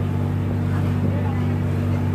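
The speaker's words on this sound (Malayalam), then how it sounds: "ബോട്ട് സ്റ്റാർട്ട് ചെയ്തിട്ട്" A boat engine running steadily after starting from a jetty on a lake, giving a constant low droning hum with some wind noise over it.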